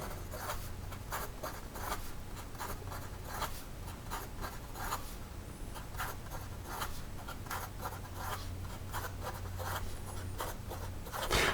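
Classic Pens LB5 fountain pen nib writing fast on paper, quiet rhythmic scratching strokes in quick bursts, close and soft, with no talking.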